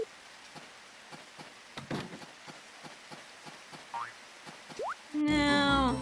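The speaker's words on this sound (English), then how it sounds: "it's raining." Soft patter of rain from the farming game Harvest Moon DS Cute, with faint drops and a few cartoonish blips over a quiet background before a louder musical jingle at the end.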